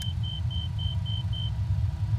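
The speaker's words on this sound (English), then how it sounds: "Unlocking the throttles, here we go." Cessna Citation C550 engines in a flight simulator game throttle up as a deep, steady rumble, with a short high beeping tone repeating several times early on, no talking.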